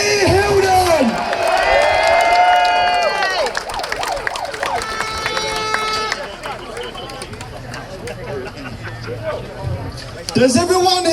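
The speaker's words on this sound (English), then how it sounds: "So please give a huge round of applause to our guest speaker, Harry Hilden!" A crowd at a street demonstration in Birmingham city centre applauds and cheers a guest speaker, a dense, loud wash of clapping and shouting mixed with whistles and voices.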